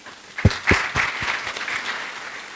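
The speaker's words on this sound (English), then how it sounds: "Let's give him a round of applause." An audience at an international science conference claps for a presenter, a few sharp claps swelling into moderate, fairly thin applause that stays steady and then tapers.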